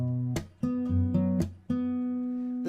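Solo fingerstyle acoustic guitar plays a short phrase of a song arrangement: a few plucked bass notes and sustained chords with sharp strummed accents, close and clean.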